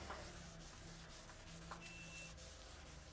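Soft, steady light hand sanding of car paint, fine abrasive rubbing across a Peugeot 406 panel, continuous and quiet, with faint scratchy texture and no voices.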